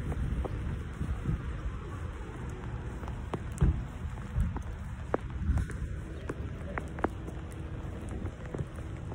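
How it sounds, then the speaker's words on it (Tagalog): Heavy rain pours steadily across the whole stretch, a dense close hiss of drops hitting surfaces with a few sharper splashes and knocks, no voices over it. "Umuulan, malakas ang ulan."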